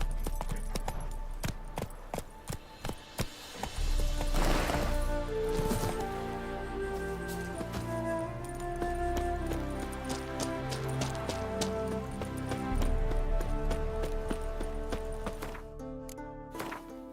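Horse hooves galloping in The Witcher 3, a steady rapid clip-clop running throughout under dense game music and ambient sound, with no pause in the rhythm.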